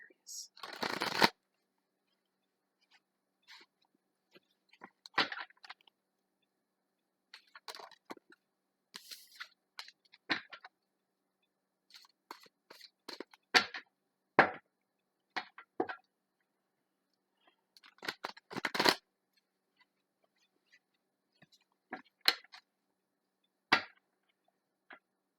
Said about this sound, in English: I believe in shuffling the cards really well.